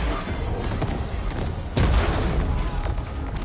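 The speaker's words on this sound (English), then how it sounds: "There still aren't enough explosions." Dense, rumbling explosions and booming gunfire roll continuously through a fight in Horizon Forbidden West, loud and close, with a heavier blast landing midway.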